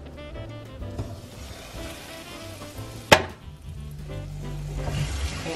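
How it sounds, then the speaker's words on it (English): Floured pot roast beef sears in a pan on a stove, a low uneven sizzle with one sharp knock midway, heard close and on its own. "And we're only going to let this meat brown"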